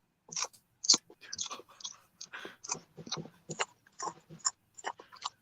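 A person chews food close to the microphone, making a series of wet, crunchy bites and smacks at an irregular rhythm. Short silent gaps separate the bites, and no one speaks.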